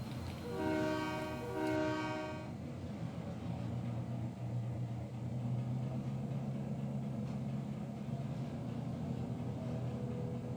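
A video-game train horn sounds in two short harmonic blasts, then a steady low rumble of rolling rail cars continues, loud and close.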